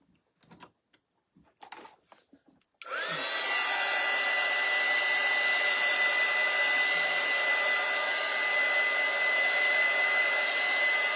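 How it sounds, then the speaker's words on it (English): A hair dryer blows steadily on a freshly stencilled craft board, a loud continuous whirring hum that starts abruptly after a few soft handling knocks and runs unbroken to the end. "Let me just dry this a little bit."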